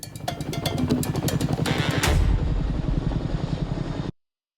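A helicopter passing close, its rotor producing a loud, steady rhythmic thudding chop over a broad engine roar that swells midway, then cuts off abruptly.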